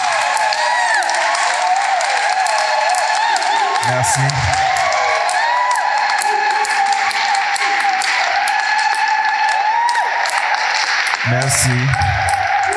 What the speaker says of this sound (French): Des acclamations nourries, assez nourries, encore plus fort pour notre Seigneur.